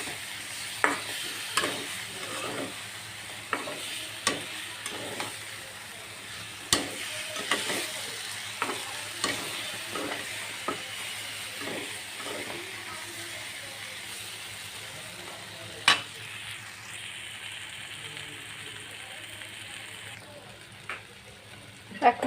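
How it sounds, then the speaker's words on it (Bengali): Chicken being stir-fried with ginger, garlic and ground spices in a pan: a steady sizzle with repeated sharp scrapes and clacks of a spatula stirring, fairly close, with no talking. "আদা রসুনটা দিয়ে একটু নাড়াচাড়া করে কষিয়ে নিই।"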